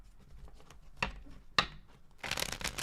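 Tarot cards being shuffled by hand: a few sharp riffling snaps followed by a longer rustling, papery burst, close and clear with no talking.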